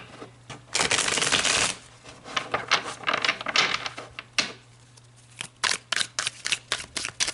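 Playing cards being shuffled, a long riffling burst followed by a series of sharp snapping riffles and taps, close and clear with a steady low hum underneath.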